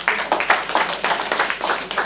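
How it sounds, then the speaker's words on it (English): A classroom of students claps their hands together in a steady, fairly loud rhythm of repeated claps, with no talking over it. "Clap your hands."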